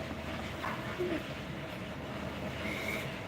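A train rolls along a railway track near a college, its low continuous rumble and faint wheel squeals steady and moderately distant for the whole stretch, with no talk over it.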